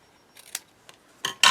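Scissors snipping paper for a craft display box and mini album, a few quick close cuts ending in two louder crisp snips.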